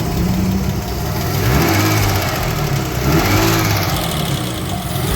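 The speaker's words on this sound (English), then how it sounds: "I'm going to show you in the next clip the top end ticking" A BMW E21 engine with a ticking top end runs close and loud, idling with two gentle rises in revs, a busy mechanical clatter riding over the hum, and no talk.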